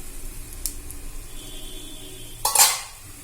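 Ragi sweet kuzhi paniyaram being turned over in the pan: a quiet, steady background, then one sharp near clatter of a utensil against the metal pan about two-thirds through, fading quickly.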